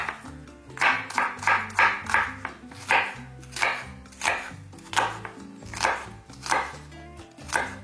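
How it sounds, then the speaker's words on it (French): A small Ninja kitchen knife chops onion on a cutting board in a steady run of about a dozen close, firm knocks, roughly one or two per second, with no talk. "Ça fait longtemps que j'ai coupé des légumes dans une vidéo"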